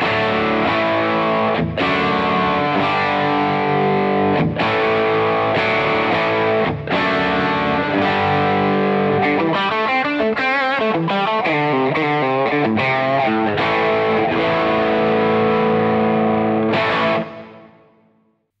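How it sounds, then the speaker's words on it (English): Distorted electric guitar played through a Cornell Studio Rats prototype amp, a thick, continuous stream of driven chords and busier phrases that rings loud and close before fading out at the end, with no talking. "I'm going to go through some of the tones on this amp."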